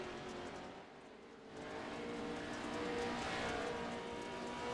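An AMX club race car passes by on its final lap in an evening club race, a steady engine roar that dips briefly and then swells back louder and nearer, holding strong to the end with no talk over it.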